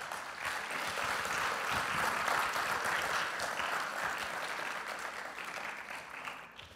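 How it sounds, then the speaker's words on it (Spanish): A congregation applauds during a church service, a dense, sustained wash of many hands clapping at steady loudness for several seconds before easing off slightly at the end. "Dale un fuerte aplauso al Señor."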